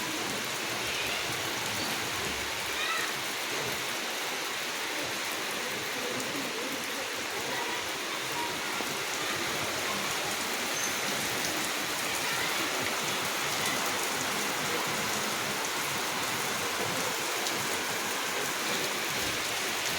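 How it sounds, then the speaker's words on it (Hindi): Steady morning rain falls outside, a dense, even hiss of drops on surfaces holding at a constant level from start to finish, with no voices over it. "बाहर हो रही है बारिश"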